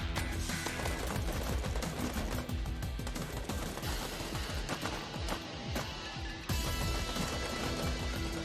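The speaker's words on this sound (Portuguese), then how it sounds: "virou um jogo genérico de tiro" Rapid, dense gunfire from a shooter video game trailer, sustained machine-gun bursts and volleys blended with music, loud and continuous throughout.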